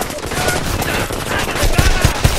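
Rapid machine-gun fire and scattered gunshots in the Homefront shooter game on PS3, loud and dense bursts over a steady battle din, with heavier thumps near the end.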